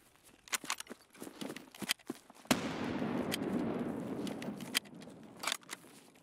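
Gunfire in the video game Escape From Tarkov: a few sharp, scattered cracks, then one louder shot with a booming echo tail, followed by more scattered snaps.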